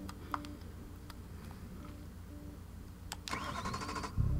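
A 1997 BMW M3 engine in the racing game Forza 6 cranks and catches near the end after quiet ticking, the start loud and close with a rising rev.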